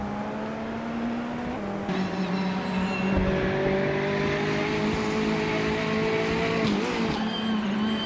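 Race cars, among them a 2017 Porsche 911 RSR, race in a video game with loud, close engine drones that shift pitch on gear changes and swell as cars pass, with no talk over them.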